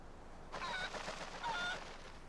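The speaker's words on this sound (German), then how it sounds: "Ein goldenes Huhn" A golden chicken in the game Zelda: Twilight Princess HD gives two short squawking, honk-like calls about a second apart, clear and moderately loud over a steady background hum.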